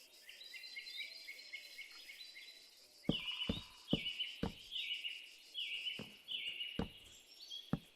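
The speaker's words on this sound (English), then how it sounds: "I think I'm hearing mourning doves in the background noise." Mourning doves call softly in the background outdoors, low faint coos beneath a bed of higher chirping insects and birds, with several sharp knocks close by.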